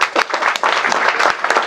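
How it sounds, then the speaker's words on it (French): Audience applause fills a seminar hall, a dense steady patter of many hands clapping together at close range, continuing throughout without pause. "Applaudissez pour vous."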